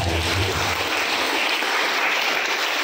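Audience applause at a public speaking and MC training session held with a regency government, a dense steady wash of clapping from a room full of people, loud and continuous throughout with no talk over it.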